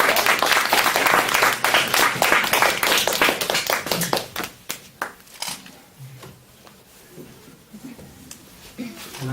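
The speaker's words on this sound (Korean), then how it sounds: "우리 힘찬 환영의 박수 드리시겠습니다." A church congregation claps in welcome for a guest speaker, loud and dense at first, then thinning to scattered claps and fading out.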